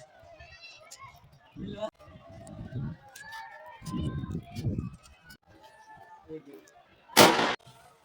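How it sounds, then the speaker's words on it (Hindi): A single sharp, loud firecracker bang bursts out near the end, following a stretch of people talking and commotion. "दुल्हन ने पटाखा बजाया"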